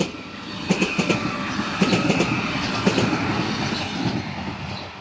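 A new-generation Stadler passenger train passes by on a neglected line between Ljubljana and Celje, a steady rolling roar with rhythmic clickety-clack wheel beats and faint squeals, fairly close, no talking.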